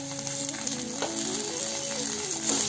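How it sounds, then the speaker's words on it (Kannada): Chopped carrots, potatoes and peas fry in a little oil for masala poha, a steady close sizzle with faint stirring and no voices. "ಸೊ ಈ ತರಕಾರಿಗಳನ್ನ ಸ್ವಲ್ಪ ಎಣ್ಣೆನಲ್ಲಿ ಫ್ರೈ ಮಾಡ್ಕೊಳ್ಳೋಣ"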